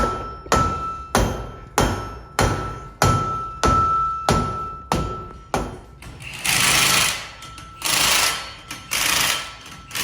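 A rubber hammer lands regular heavy thuds about twice a second, then longer bursts of rough, noisy pounding; close and loud, with no talking.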